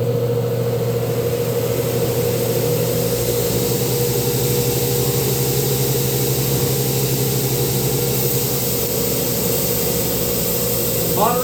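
A belt grinder running at high speed with a half-worn 60 grit ceramic belt grinds a steel bar, making a loud steady motor drone with a constant hissing rasp and no pauses.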